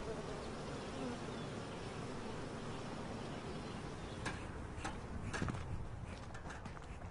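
Steady, dense buzzing of many honey bees swarming close by among wild blueberry flowers, continuous throughout with a few sharp ticks near the end.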